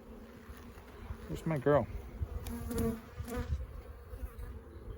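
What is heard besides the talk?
honey bees buzzing in over-wintered hive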